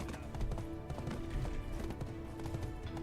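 Steady, rhythmic clip-clop of a horse's hooves trotting in a video game, repeated regular hoofbeats under a droning musical background, fairly quiet and continuous with no talking.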